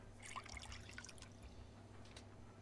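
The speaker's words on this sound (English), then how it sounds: "Energy-rich, revitalizing, clear water. Into the tank you go." Clear water trickles and pours into a tank in the Deponia adventure game, a soft liquid dribble with faint drips, low and fairly quiet against a steady background hum.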